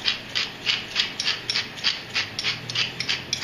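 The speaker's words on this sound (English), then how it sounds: "Fresh ground pepper." A pepper mill grinding fresh black pepper over green beans, a quick regular series of gritty crunching twists, about a dozen close and fairly loud strokes.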